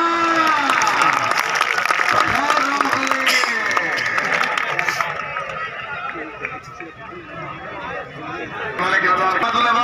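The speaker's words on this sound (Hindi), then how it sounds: "जोरदार तालियां" Stadium crowd applause at a match, loud clapping and cheering with a voice calling over it, easing off midway and swelling again toward the end.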